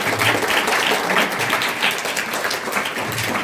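A crowd at a school farewell and blessing ceremony breaks into loud, sustained applause. The clapping is dense and energetic throughout, with faint voices underneath.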